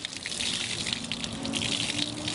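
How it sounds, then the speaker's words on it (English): Water pours and splashes steadily from a wash mitt being wrung out during a car wash, a close, continuous gushing with no talk over it. "So I take my wash mitt and I go ahead and wring it out."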